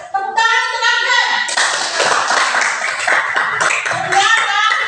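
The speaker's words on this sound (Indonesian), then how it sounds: "Tepuk tangan untuk Afgan." A classroom of students clapping for a classmate, loud and close, with a voice ringing out at the start and chatter mixed into the applause.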